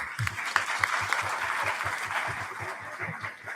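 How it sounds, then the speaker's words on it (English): An audience claps warmly at the closing ceremony of a Buddhist retreat, a dense, continuous round of applause from a crowd at moderate distance, with a few faint chuckles mixed in. "please join me in welcoming Venerable Geshe with a warm round of applause"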